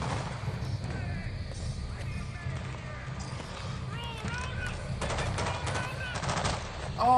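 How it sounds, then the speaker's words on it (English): Gunfire in Dead Rising 2, a fairly faint, steady patter of shots set under near-continuous talk, with clearer clustered bursts in the closing seconds. "Oh, dude, you shot your own guy."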